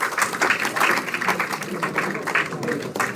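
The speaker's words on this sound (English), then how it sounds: "Let us give her a big round of applause" Audience applause at an international conference, a steady wash of clapping from a seated crowd with a voice speaking over it.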